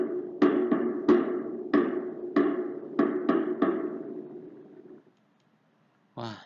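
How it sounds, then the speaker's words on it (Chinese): A drum is struck about ten times in an irregular rhythm, each hit ringing briefly before the next, followed by a short pause and a brief voice. "这是鼓的声音"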